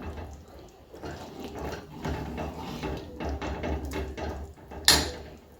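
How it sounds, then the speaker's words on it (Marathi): Chicken curry gravy boils in a pot on a home stove, giving a soft, continuous bubbling and popping with a sharper clack near the end. "छानपैकी रश्श्याला उकळी आलेली आहे, बघू शकता"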